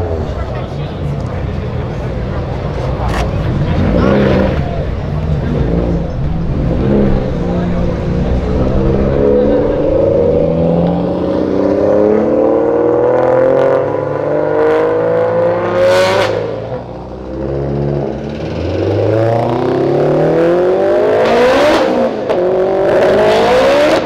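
A car leaving a car meet revs hard and accelerates, its engine rising and falling through several loud sweeps with passing whooshes, while voices talk over it.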